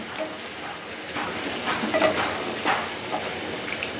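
Eggs frying in a hot pan, a steady bright sizzle with crackling spits and pops, close and continuous with no talk.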